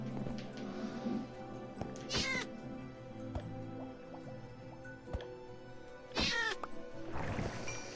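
A kitten in the Minecraft video game meows several times at intervals over a low game background with small drips and clicks, each meow short and clear, the loudest near the middle and end.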